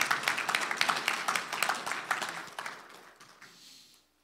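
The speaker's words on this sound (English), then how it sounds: "Give a loud round of applause to the Lord." Church audience applauding in a steady burst of dense clapping that fades out toward the end, with no talk over it.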